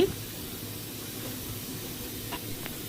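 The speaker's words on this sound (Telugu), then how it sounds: "పలావ్ దినుసులన్నీ కూడా అన్ని ఒకేసారి యాడ్ చేసేసి కొద్దిగా ఫ్రై చేసుకోవాలి" Whole pulao spices fry together in a hot pan for ulavacharu biryani, giving off a soft, steady sizzling hiss that holds even throughout with no talk.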